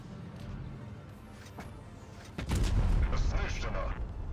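Tank cannon fire from the game World of Tanks Blitz, with a T57 Heavy in play: sharp booming shots, one around the middle and a heavier, louder blast later that rumbles on. A voice talks over the game sounds.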